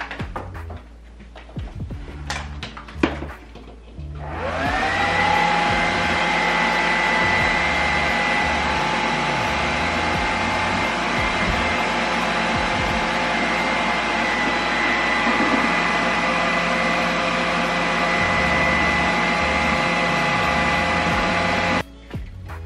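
A hooded salon-style hair dryer starts up after some soft handling noises, then runs as a loud, steady whirring hum for about seventeen seconds before switching off.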